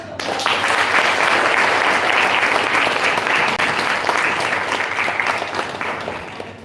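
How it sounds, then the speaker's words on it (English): A large audience at a student talk event applauds loudly and continuously, dense clapping that swells and then gradually fades toward the end. "Can we give a big round of applause?"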